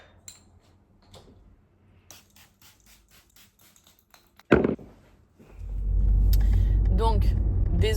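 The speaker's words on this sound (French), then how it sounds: "je monte dans la voiture et je vous reprends depuis la voiture" A car door thuds shut, then the engine starts and the cabin fills with a steady low rumble as the car pulls away. Quieter handling sounds come before the door, and someone talks at points.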